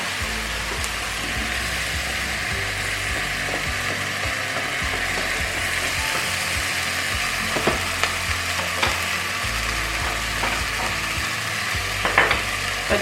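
Onion and leek cooking down in a pan give a steady frying sizzle with faint scraping stir clicks throughout; no potatoes are clearly heard going in.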